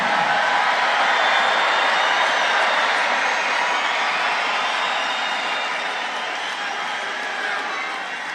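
A large political rally crowd roars and cheers in a sustained, loud wash of voices that slowly tapers off without breaking.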